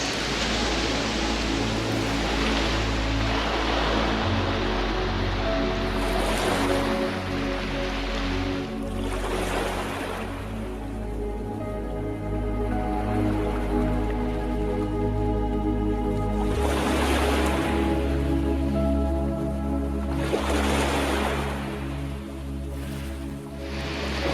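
Continuous roar of Black Sea waves washing onto the shore near Burgas, Bulgaria, broad and steady, with surges swelling and fading every few seconds.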